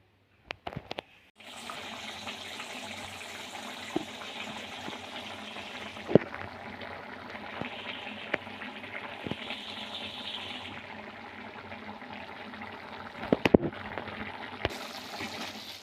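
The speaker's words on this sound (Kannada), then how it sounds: "ಕುದೀತಾ ಇದೆ." Palak spinach paste boiling in a pan over medium flame, a steady close bubbling and simmering hiss that runs for about fifteen seconds with a few sharp clicks and knocks.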